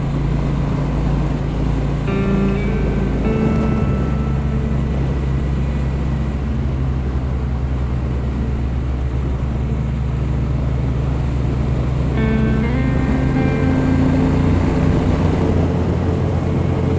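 A Triumph T120 motorcycle is ridden on the road and accelerates to just over the speed limit. A loud, constant engine drone mixes with wind rush, and the pitch shifts noticeably twice as the bike changes gear.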